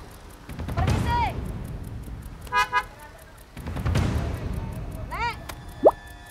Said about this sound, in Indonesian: Oke, dikelakson-kelakson, nih jalanan macet.